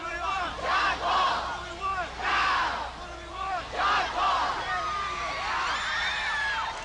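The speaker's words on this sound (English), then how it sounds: "New Yorkers turned out for the Pope when he went to lunch after his UN address at the Vatican UN mission, demanding to see him in a distinctly American cheer" New York street crowd cheering for the Pope outside the Vatican UN mission, rhythmic chanting bursts of many voices rising and falling in a repeated pattern, then a sustained whooping cheer.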